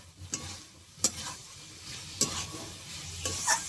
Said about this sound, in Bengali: চিনি দিয়ে 1 মিনিট মতো আমি নেড়ে নেব।